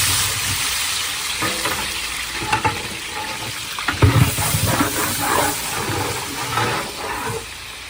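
Large batch of onions, about fifteen kilos, frying in hot oil for a thirty-kilo chicken biryani, a steady broad sizzle with scattered crackles and stirring clatter throughout, fairly close and loud, no talk.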